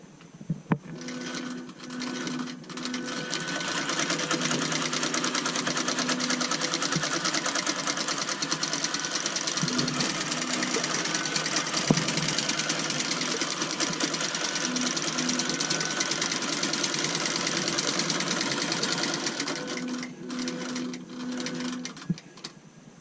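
A sewing machine quilting a purple quilt runs steadily for a long stretch, a fast even mechanical whir with rhythmic stitching clatter, briefly easing around the middle before continuing, close and alone without voices.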